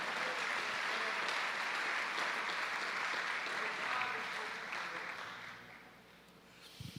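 A church congregation at Igreja Nova Vida applauds steadily for several seconds, then the clapping fades out.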